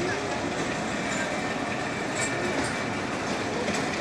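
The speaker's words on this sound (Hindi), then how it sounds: "bye bye, train bye bye, train bye bye" A Mehr Express passenger train rolls past at a railway, a steady broad rumble with faint wheel clatter filling the whole stretch while a person speaks over it.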